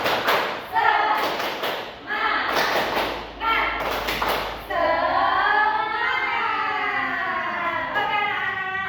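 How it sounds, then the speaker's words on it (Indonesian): Schoolchildren in a classroom do a rhythmic tepuk semangat clapping chant: several sharp claps and thumps in a beat, then sustained chanted voices in unison. "yuk kita tepuk semangat terlebih dahulu"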